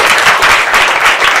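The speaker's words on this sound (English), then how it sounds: "Give him a round of applause." Audience applause at a conference talk on alternative advocacy, a brief, loud, dense burst of clapping from a crowd.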